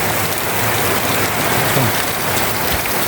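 Heavy rain pours steadily in a rural riverside area where the river is overflowing, a dense, continuous hiss with no pauses and no voices.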